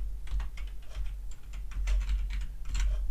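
Someone types a topic name on a computer keyboard, a quick uneven run of close, crisp key clicks over a low steady hum with no talk.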